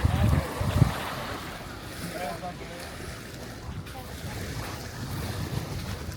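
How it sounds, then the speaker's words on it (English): Wind buffets the microphone in gusts on choppy afternoon open water during a triathlon practice swim, with loud rumbling bursts at first, then a steadier rushing wash of waves and wind. "it was pretty wavy. I mean, because there's a lot of wind in the afternoon"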